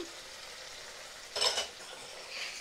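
Yogurt hits a sizzling spice paste in a pan for a new-potato curry: a steady, moderate frying hiss swells into a brief louder burst of sputtering and stirring, then settles back to a soft sizzle.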